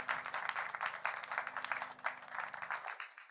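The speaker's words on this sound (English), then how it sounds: "A round of applause for yourselves." Applause from the audience at a chess tournament, a few seconds of steady clapping that thins out toward the end.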